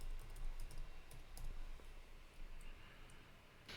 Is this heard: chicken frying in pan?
no